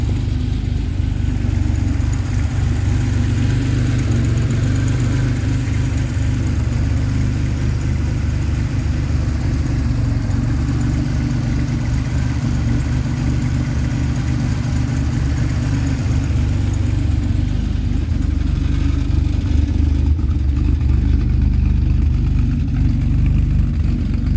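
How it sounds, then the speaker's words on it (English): A car engine idles steadily, loud and close, a constant low rumble that holds unchanged throughout with no voices over it. "let me just turn this engine off so you can hear me."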